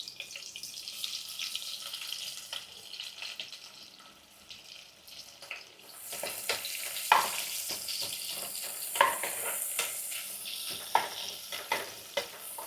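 Onions cut into long slices are added to a pan with spices already frying and break into a loud, close sizzle, joined by stirring scrapes and clinks, with no talk.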